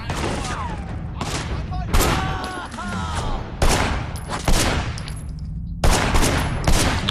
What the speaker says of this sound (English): Come on, shoot the exploding barrel.